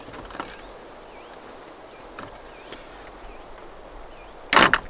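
A ratchet loosens 8mm bolts on a 6.7 Dodge Cummins truck during thermostat replacement, with faint clicking through a quiet stretch, a metallic clatter near the start and a loud harsh burst at the end.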